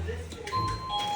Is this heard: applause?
no